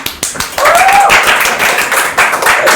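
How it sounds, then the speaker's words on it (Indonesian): Audience clapping for a student PR team during a talk-show podcast, a few sharp taps and then loud, close applause that swells and holds, with a voice briefly rising over it. "Ini hebat banget buat adik-adik humas semua, boleh tepuk tangan"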